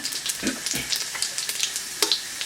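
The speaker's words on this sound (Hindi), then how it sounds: "तेल हो चुका है यहाँ पर गरम। इसमें आप ऐड करते हैं ज़ीरा" Cumin seeds crackle and sizzle in hot oil for Hyderabadi lal chicken, with soft irregular pops and a faint hiss close by and no talking.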